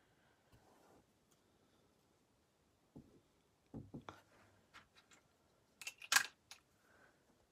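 Scissors snip through washi tape, giving a few faint, close clicks and crisp cuts scattered among quiet handling noises, with the sharpest snips near the end.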